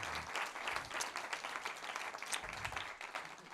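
An audience applauds the finalists at a master's degree negotiation contest award ceremony, steady dense clapping filling the room at moderate volume from start to finish.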